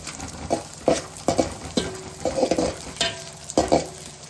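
Raisins frying in ghee while being stirred, with a soft continuous sizzle broken by repeated scraping and clinking strokes of a spoon against the pan.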